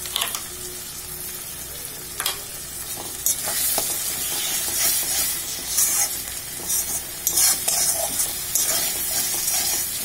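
Mutton frying in a pan, a bright continuous sizzle with repeated scraping and knocking of a spatula as it is stirred, close and fairly loud, swelling in the second half.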